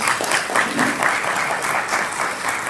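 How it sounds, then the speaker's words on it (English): Audience at a healthcare executives' education dinner event in South Florida applauding the kitchen staff, a dense, sustained roomful of clapping at full level, continuous from start to end. "Round of applause for that,"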